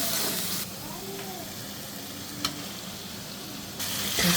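Spices and shrimp are sautéed in a pan, giving a loud, steady hiss and sizzle from start to finish. A brief scrape of stirring comes partway through, and the sizzle swells again near the end.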